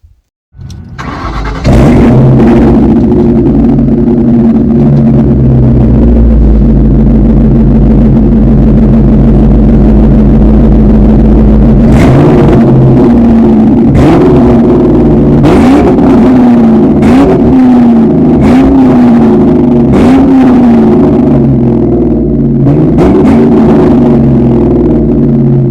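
A 1999 Ford Mustang GT 35th Anniversary V8 with an H-pipe, American Thunder Flowmaster mufflers and high-flow cats starts up into a loud, deep burbling idle, broken by several sharp throttle blips, close by.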